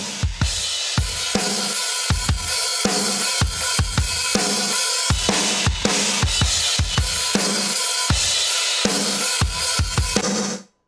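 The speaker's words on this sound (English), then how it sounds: "Here's the sound of the saturation." Heavily saturated, distorted drum kit playing a steady, punchy rhythm, with hard-hitting kick and snare hits over a dense, harsh wash of crunchy cymbals, loud and compressed throughout with no talking.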